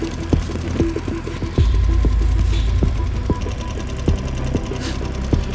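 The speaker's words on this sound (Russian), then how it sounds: "Изменилась тональность работы двигателя даже." Outboard motor on an inflatable boat with an inflatable floor, running with a rapid mechanical throbbing and knocking rhythm that deepens and grows louder partway through, close and steady, with no voices.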